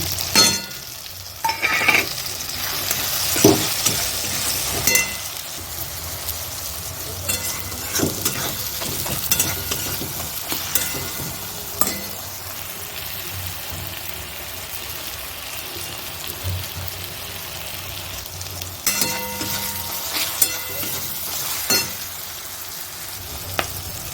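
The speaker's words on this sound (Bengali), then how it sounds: "আমার এগুলো মোটামুটি ভাজা হয়ে গেল" Ground cumin, coriander, turmeric and Kashmiri chilli fry in oil for a chicken curry, a continuous crackling sizzle close by, punctuated by scattered scraping stirs and taps against the pan.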